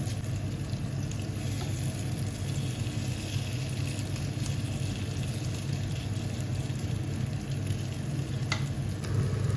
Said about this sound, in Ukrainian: я розпочинаю процес жарки